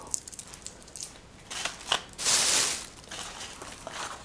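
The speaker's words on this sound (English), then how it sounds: "I will stop using this plastic bag. It's too much noise." A plastic bag crinkles and rustles close up in irregular bursts, with one longer crumpling stretch in the middle and quieter scattered crackles around it.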